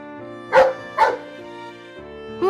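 A small dog yips twice in quick succession, begging for more fish after being tossed one on an island, then gives a soft whimper and another short yip, close and alone.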